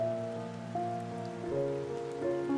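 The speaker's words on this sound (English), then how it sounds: "rain begins to fall." Rain starting to fall in a village parking area where groceries are being loaded into a car; a steady, soft patter sits beneath sustained, wavering musical tones, with no voices.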